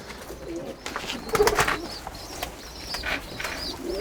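A pigeon coos softly a few times close by, with faint rustling and light background noise around it.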